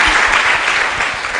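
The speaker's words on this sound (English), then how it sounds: "Let's clap for Chipengo." Steady, dense applause from a live audience at a women and girls in cyber event, loud and continuous throughout with no break.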